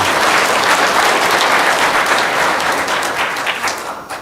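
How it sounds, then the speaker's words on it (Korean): An audience at a lecture on Jeju livestock, manure handling and food applauds a speaker: loud, continuous, dense clapping from a seated crowd that tapers off slightly at the end. "한 번만 박수를 좀 힘차게 쳐주십시오"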